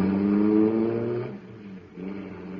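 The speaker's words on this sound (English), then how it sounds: "that cosmic surface car is really roaring" A car engine roars loudly at first, then drops off briefly and picks up again, its low droning tones close by, in a 1952 radio drama.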